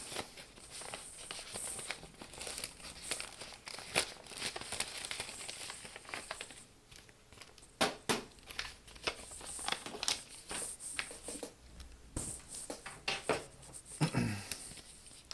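A paper envelope for a fraud referral form handled up close with soft crinkles, rustles and light taps, steady and quiet throughout.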